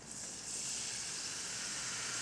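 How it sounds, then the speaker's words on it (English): Water poured into a hot pan sizzles loudly while yakitori tare sauce is made, a close, continuous hiss that swells and holds steady. "Hear that sizzle?"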